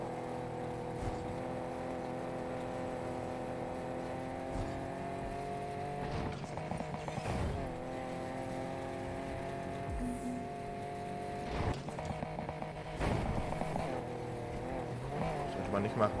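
Car engine droning steadily through laps in the street-racing game Need for Speed Heat, with harmonic engine tones rising and shifting as gears change, under continuous talk from a player.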